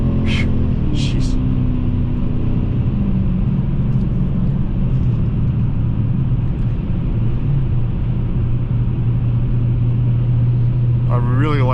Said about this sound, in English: I really like the way it accelerates from a roll, and how instant and lag-free this powertrain is.